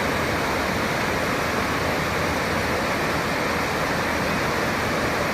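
Steady, unbroken roar of a waterfall in Kanthalloor, Kerala, a broad rushing wash of falling water heard close and loud throughout with no voices.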